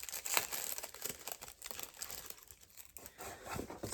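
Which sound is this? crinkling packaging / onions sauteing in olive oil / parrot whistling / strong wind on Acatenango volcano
crinkling packaging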